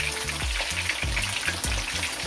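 Parrot fish or snapper frying in a pan of hot oil on a stove, a steady loud sizzle with crackling and periodic low bubbling pops, with no voices over it.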